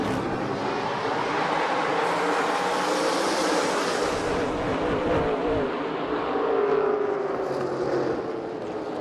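A field of race cars at Lucas Oil Raceway accelerates hard at a restart. The engines make a loud, continuous roar that swells as they build speed.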